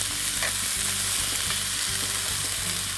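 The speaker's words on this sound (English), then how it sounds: "Here I've got some chopped up onions, green peppers, and tomatoes, and I'm going to saute those in the oil" Chopped onions, green peppers and tomatoes sauteing in hot oil give a loud, continuous sizzle, with soft stirring bumps repeating underneath and no voices.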